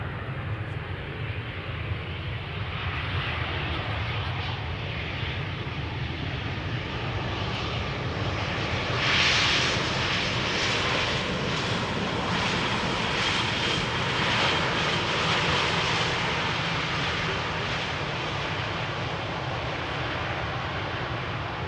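An EasyJet Airbus A320 landing at Amsterdam Schiphol produces a steady, sustained engine roar throughout, swelling slightly partway through, with no voices over it.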